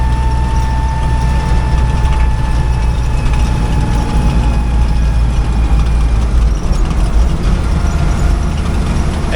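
A 1956 Willys CJ5 with a freshly rebuilt engine labours uphill in third gear, a steady loud low drone and rumble from inside the vehicle that runs unbroken throughout.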